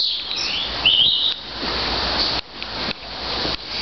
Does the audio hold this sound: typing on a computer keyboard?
no